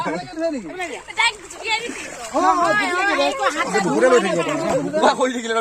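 Swimmers splash and churn the water of a local river while several people chatter and call out loudly over the splashing throughout.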